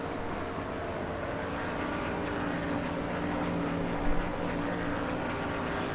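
A race car engine in the NASCAR Thunder 2003 video game at Chicagoland losing speed, a steady, droning roar that holds evenly throughout with no talk.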